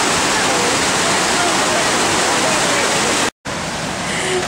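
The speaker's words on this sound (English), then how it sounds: "Water's really loud." A loud waterfall roars as a dense, constant wash of falling water close by, with a brief drop-out near the end.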